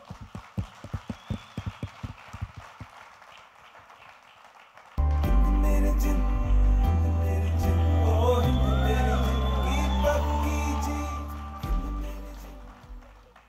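A song launch crowd starts with a few sharp rhythmic claps, then bursts into loud cheering, whooping and shouting with music-like tones swelling underneath, staying loud and dense before easing slightly near the end.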